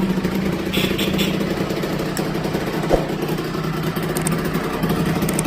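A homemade motorcycle's engine runs steadily through a test ride, a continuous mid-pitched drone at close range with a brief knock near the middle, alone with no talk.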